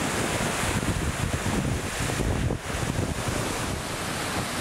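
Waves wash onto a South Carolina beach at sunset as a constant loud roar of surf, mixed with heavy wind buffeting the microphone and no voices.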